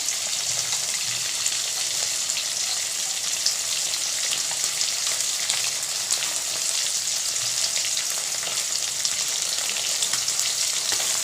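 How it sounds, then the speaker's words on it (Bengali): Pieces of catla fish frying in hot oil in a pan, a steady dense sizzle and crackle that stays loud and close without pause, no talk. "মাছগুলো ভাজা হচ্ছে"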